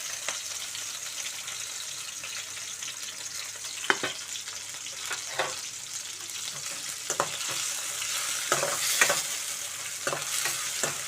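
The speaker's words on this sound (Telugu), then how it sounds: "ఇవి దీనిలో వేసుకొని ముందుగా వేయించుకుందాం బాగా" Dried prawns and dried small fish frying in oil for a brinjal curry, giving a continuous close sizzle broken by a few sharp stirring scrapes, with no voices.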